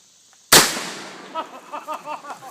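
A single loud gunshot at an outdoor gun range aimed at a beehive, a sharp close blast with a decaying tail, followed by faint voices.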